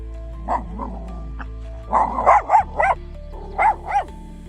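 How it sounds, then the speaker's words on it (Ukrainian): Dogs bark at a springtime lavender field, a burst of single barks near the start, then a quicker run of several loud, close barks and two more at the end, with a steady low hum underneath. "Чого ви гавкаєте?"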